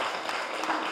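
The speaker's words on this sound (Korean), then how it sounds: "와, 박수." Audience applause during a meditation lecture on overcoming anxiety, a dense, even burst of clapping from a gathered crowd lasting about a second.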